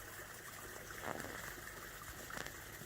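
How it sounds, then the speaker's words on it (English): A small waterfall pours into a deep pool at Palmerville, giving a continuous faint rushing, trickling wash with slight splashy surges, with no talking. "So a lovely little waterfall going into a deep pool"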